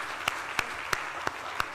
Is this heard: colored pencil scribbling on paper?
no